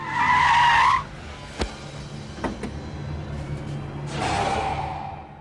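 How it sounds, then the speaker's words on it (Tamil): A car's tires screech briefly and sharply, followed by a couple of soft knocks and a low engine rumble that swells again near the end, with no talking. "அதோ ராஜுவோட கார் வருது"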